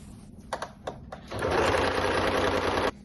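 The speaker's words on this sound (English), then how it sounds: "I'm going to go ahead and start my stitch." A sewing machine stitches a fabric wrap top, with a few short tapping starts followed by a loud, continuous close-up whir of stitching for about a second and a half.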